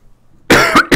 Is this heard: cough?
yes